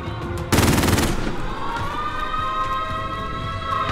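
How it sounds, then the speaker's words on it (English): Rapid sentry turret machine-gun fire in a shooter game, a loud dense burst of about half a second followed by a ringing whine and ongoing battlefield noise. "Deploying sentry turret."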